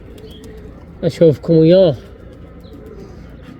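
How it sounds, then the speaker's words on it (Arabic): Sina pigeons coo in a few short, close calls followed by a longer drawn-out coo, loud against a quiet background, with a voice speaking briefly. "هذاني الطيور لا هو تار ولا هو زاجل"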